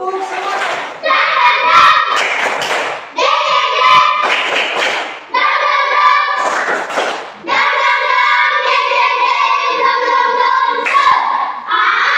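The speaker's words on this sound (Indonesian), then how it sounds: "Kita tepuk semangat sama-sama." A group of children perform a spirit clap, chanting together in unison with sharp, rhythmic bursts of clapping between the sung phrases, loud and close in a room.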